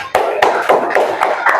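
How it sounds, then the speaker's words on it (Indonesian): Children's hands clap together in a classroom, a steady rhythm of six sharp, even claps close by. "Tepuk tangan."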